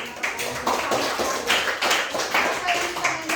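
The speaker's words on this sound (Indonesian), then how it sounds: "Kita harus tepuk tangan untuk Junaidi karena" A classroom of students claps hands, a lively run of overlapping claps in repeated pulses at moderate distance, with voices mingled underneath.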